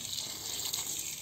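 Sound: well water gushing out

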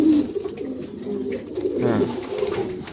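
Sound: pigeons cooing

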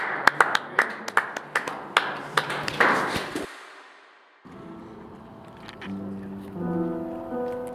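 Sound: applause

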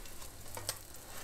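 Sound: egg-in-bread toast frying in a pan

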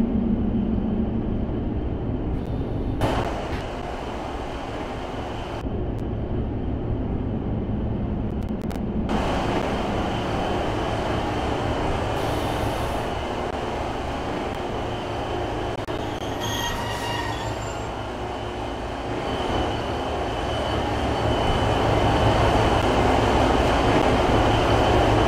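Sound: Class 156 two-coach train running

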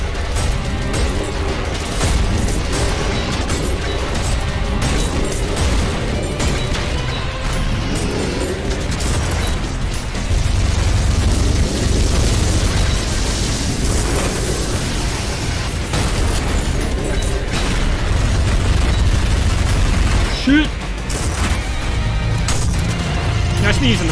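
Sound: rocket launcher explosions in video game Ultrakill

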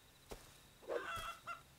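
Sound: chicken in video game Rust

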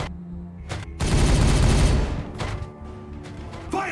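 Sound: gunfire in the video game Regicide

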